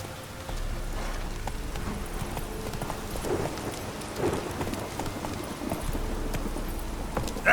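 Roach the horse's hooves walking in The Witcher 3, a steady clip-clop pattern running through the clip under a faint rain-like wash, moderately close.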